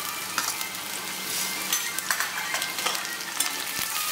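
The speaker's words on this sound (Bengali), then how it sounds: "আদাটাকে ভালো করে লাল করে ভেজে নেব" Chopped ginger and onions fry steadily in a pan, giving a continuous close sizzle with small crackles and occasional stirring scrapes throughout, with no voices.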